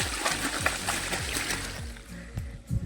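Irrigation water runs down through a fodder grass field, a close, continuous gurgle with splashy trickles and occasional louder sloshes.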